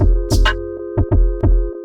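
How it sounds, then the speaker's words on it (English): Sparse drum pattern programmed on an OP-XY synthesizer: a kick, snare and shakers tap out a short, steady groove over a sustained tonal drone, close and fairly loud, with no talk. "I just had the kick, snare, and the shakers."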